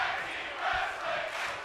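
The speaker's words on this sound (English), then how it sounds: "As the crowd calls for tag team wrestling." Wrestling crowd at a live tag-team event, a broad roar of many voices chanting in steady waves at a moderate distance, swelling and easing without any clear single voice standing out.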